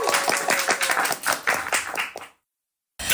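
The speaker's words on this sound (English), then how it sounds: "Clap, guys, clap." Lively clapping from a group of people at a Sheffield school podcast, a rapid burst of hand claps that stops abruptly, then a short resumption after a brief silence.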